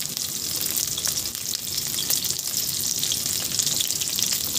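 Onion sautés in a pan with garlic already browned, giving a constant dense sizzle with faint scraping, close up and steady throughout, no talking.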